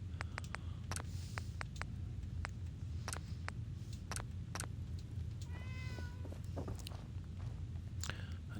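A house cat begs to be fed with a short meow and soft vocal sounds in the middle, over a steady low background hum, with scattered sharp clicks and small taps throughout.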